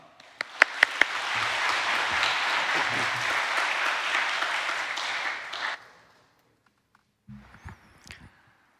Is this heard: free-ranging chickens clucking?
no